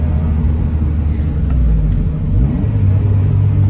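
A sports car, a Honda S2000, rumbles steadily from inside the cabin as the driver makes a rev-matched downshift to second gear, with a brief engine rise partway through and a continuous low drone throughout.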